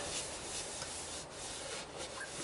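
Clean tissue wipes excess finish off a wooden hollow form turned from a multi-branch log, making a quiet, continuous rubbing and scuffing sound up close.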